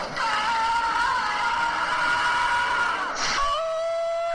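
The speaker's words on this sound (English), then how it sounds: "here's a compilation of Marty McFly screaming" Marty McFly screaming in Back to the Future, a loud sustained shrill yell followed by a second higher scream, heard up close.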